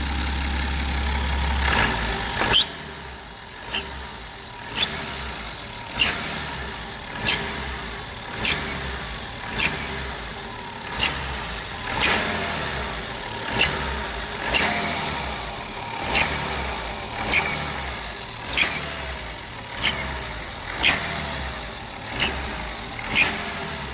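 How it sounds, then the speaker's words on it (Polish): BMW 535d with a 313 PS diesel engine idles and is revved in a steady series of short throttle blips, each bringing a sharp, brief squeal of about half a second. The engine sounds close by, with no talk. "piszczenie, E, robi to tylko i wyłącznie przy dodaniu gazu i trwa to może pół sekundy"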